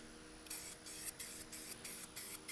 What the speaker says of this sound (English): So I'm gonna keep spraying these and go from there.